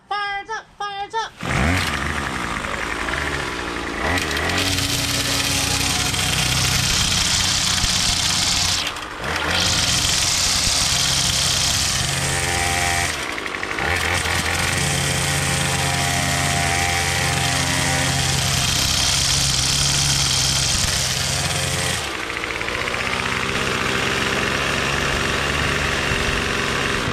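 A Troy-Bilt TB22 two-stroke weed trimmer engine running after a carburetor replacement, starting with brief pulls and sputters, then a loud, steady high-pitched whine with short dips in revs.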